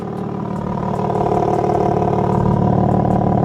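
A BMW G80 M3/M4 with SSR downpipes and stock exhaust idles with a loud, steady, rumbling burble and faint ticking, a constant close engine drone throughout.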